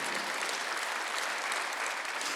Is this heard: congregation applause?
yes